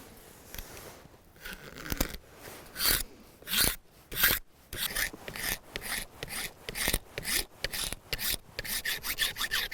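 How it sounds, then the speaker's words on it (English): A knife blade held perpendicular scrapes dry wood into fine shavings for fire starting, a series of close, rasping strokes in an uneven rhythm, some louder and longer than others. "instead of shaving curls, you just turn your blade perpendicular and you can make super fine"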